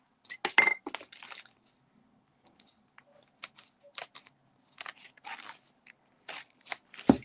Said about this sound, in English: I'm going to open this, get my scissors